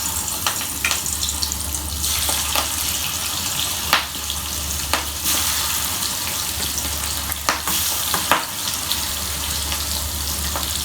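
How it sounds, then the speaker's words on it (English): Prawns fry in batches in hot oil for a spicy stir fry, giving a steady, loud sizzle throughout with occasional sharper spits and crackles and no talking. "let's add in the prawns batch by batch and fry them"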